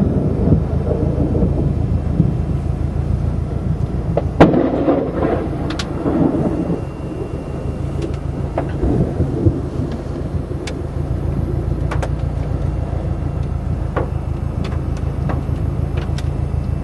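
Deep thunder rumbles and cracks over steady heavy rain, with several sharp nearby claps breaking through the continuous downpour, during a severe tornado-warned storm near El Reno, Oklahoma.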